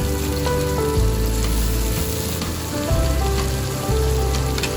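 Squid pieces sizzle in hot oil for sambal, a steady dense crackle with dull thumps as pieces are added a little at a time. The frying is close, loud and continuous, with no talking.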